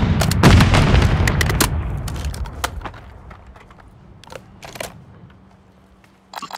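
Grenade blast in Call of Duty Warzone 3: a loud, dense boom right at the start, followed by several sharp gunshot-like cracks and reports that fade to quieter scattered pops, with a last burst near the end.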